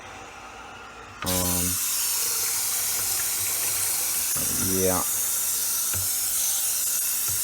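Hot water pouring and steaming into a 29-gallon Aqua-Culture aquarium tank, a steady broadband rush that starts abruptly and runs on, with a brief spoken word over it.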